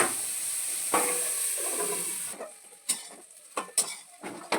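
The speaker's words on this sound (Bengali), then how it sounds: "এবার গ্যাসে আমি একটু ভাজতে থাকি।" Round-cut bitter gourd slices fry in a pan on a gas stove, a close, bright sizzle that fades after a couple of seconds into quieter hiss broken by sharp stirring scrapes and clicks.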